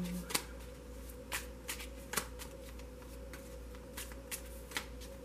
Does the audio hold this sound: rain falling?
no